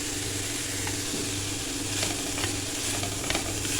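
Shredded cabbage sautéed in a pan, a close, continuous sizzle with a low steady hum beneath and occasional soft stirring taps.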